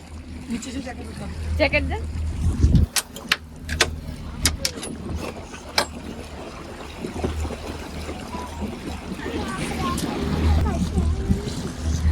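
A small boat rides on the open sea, its motor droning low beneath rushing water and splashes, while people chat and call out greetings over it, with a few sharp knocks and bumps.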